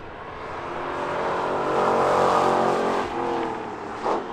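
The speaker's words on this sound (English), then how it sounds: "Yes, that was the Corvette." Chevrolet Corvette driving past at a car festival, its engine note rising to a loud peak as it nears and then fading away, with a brief rev toward the end.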